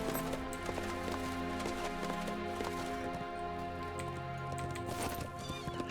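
Horse hooves clip-clopping while riding in the online game The Lord of the Rings Online (LOTRO), a steady trotting rhythm under a dense layer of game music and ambience.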